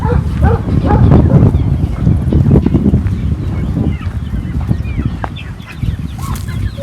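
Sick guinea fowl on a farm give repeated sharp, chattering calls, loud and close, overlapping in a busy flock with other farm animal noise around them.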